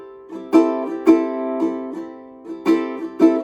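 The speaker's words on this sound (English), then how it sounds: "But now if I would emphasize certain strums, it would sound like this." Close, clean ukulele playing the island strum with certain strokes accented, so some strums ring out louder than the softer ones between them in a bouncy repeating rhythm, no talking.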